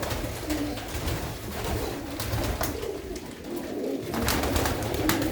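Domestic blue pigeons in a loft keep up a continuous chorus of low, rolling coos, close and steady, with a few sharp clicks and rustles scattered through.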